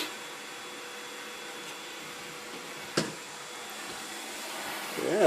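Household vacuum cleaner hums softly and steadily in a bedroom with a thin whine, a single sharp knock midway and a brief vocal sound at the end.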